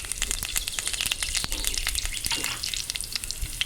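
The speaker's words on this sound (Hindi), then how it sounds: "जैसे ही तेल गर्म हो जाए हम उसमें जीरा डालने के बाद हम डालेंगे उसमें करी लीव्स" Curry leaves and cumin seeds sizzling in hot oil in a wok, a loud, dense crackle with sharp popping bursts throughout, close and continuous with no talk.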